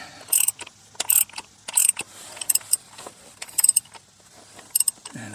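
A socket ratchet turns the oil filter cover on a 2010 third-generation Toyota Prius, making short bursts of rapid clicking in an irregular rhythm, close and fairly loud, with brief pauses between strokes.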